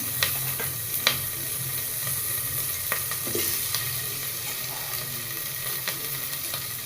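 Meat with garlic and onions sautéing in oil for mung bean stew, a steady loud sizzle with occasional scrapes and taps of a spatula stirring in the pan.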